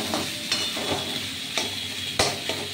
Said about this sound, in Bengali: মাঝে মাঝে এরকম করে নেড়ে আপনারা ভাজা ভাজা করে নেবেন।